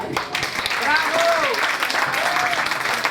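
Audience applause rolls as a steady patter of clapping hands through the whole stretch, with a voice speaking over it and brief whistle-like tones near the middle.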